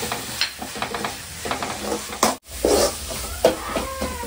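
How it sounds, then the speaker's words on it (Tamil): Masala seasoned with chili powder sizzles and fries in a pan, with steady crackling and a few stirring scrapes, close up with no talking. "நல்லா வதங்கிடுச்சு மசாலா"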